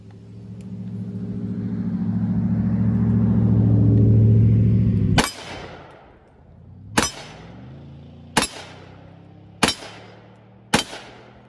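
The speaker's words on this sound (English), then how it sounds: "I'm going to shoot 5 rounds." Five sharp gunshots from a short-barreled Palmetto State Armory 300 AAC Blackout rifle, fired one at a time at uneven intervals of roughly one to two seconds, each loud crack followed by a brief decaying echo, after a stretch of low rumbling background.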